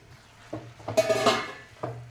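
Carrot halwa being stirred in a pot, with scattered scrapes and clinks of a spoon against the metal at an uneven pace, close and moderately loud, no talking.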